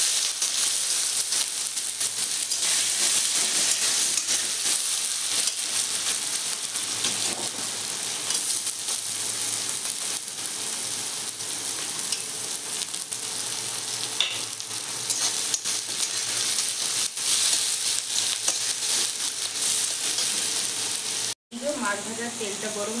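Whole cumin seeds and chopped onion frying in hot oil for a Bengali yam and fish curry, a strong steady sizzle close by with faint stirring, sustained throughout and briefly cut near the end.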